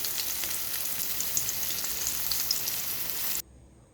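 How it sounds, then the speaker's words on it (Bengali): Salted, turmeric-coated fish pieces fry in hot oil with a steady, dense sizzle that runs loud and continuous before cutting off abruptly near the end. "তেলে প্রথমে ভেজে তুলছি"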